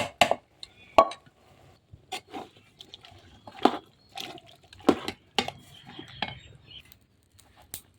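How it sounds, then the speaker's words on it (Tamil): Water is poured into a masala mix of chili powder, turmeric and chicken masala powder for a prawn curry, heard as faint splashes and drips among clinks of a spoon and utensils in a quiet kitchen. "இது கூட தண்ணி சேர்த்துக்கலாம்"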